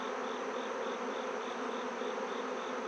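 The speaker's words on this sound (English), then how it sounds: "There's a pile of bees here." A crowd of honeybees hums steadily around an opened hive during inspection, the buzz loud, close and unbroken throughout.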